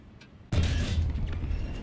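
A Panzer IV C tank gun shot from War Thunder lands in a sudden loud boom after a brief near-silence, followed by a rumbling roar that lingers to the end.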